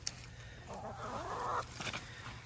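Backyard chickens cluck excitedly over fresh cabbage leaves, with a rising drawn-out squawk at mid-range followed by a few shorter calls.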